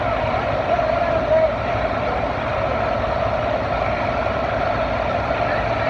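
A farm tractor engine drones loud and steady at a tractor pull in Halls, Tennessee, a close, continuous low rumble with little change in pitch.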